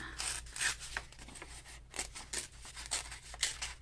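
Paper being torn from an altered book for a junk-journal collage, a run of close, dry ripping and crinkling bursts in quick succession, with no talking.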